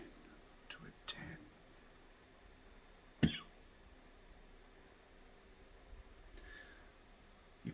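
A few soft coughs and throat sounds scattered over quiet background hiss, with one sharper cough standing out in the middle.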